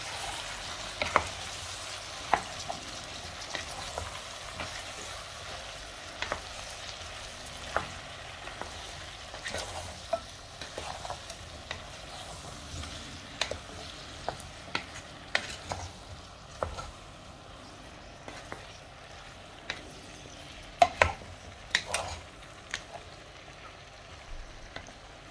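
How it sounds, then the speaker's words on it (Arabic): Vegetables for a vegetable soup sautéing in a pot, a low steady sizzle with scattered scraping and stirring clicks throughout, fairly quiet and with no talking. "غادي نخلي كلشي يتشحر شويه"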